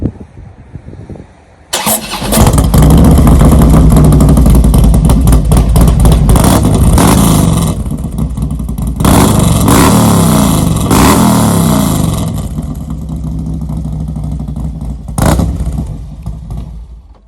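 2016 Harley-Davidson Street Glide with a D&D 2-into-1 FatCat exhaust starting up, then a loud, close, rumbling idle broken by several sharp throttle revs that rise and fall.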